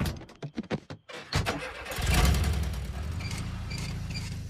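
A cartoon car with its ignition key broken off is started using pliers: several short cranking bursts, then the engine catches and settles into a loud, steady idle close by.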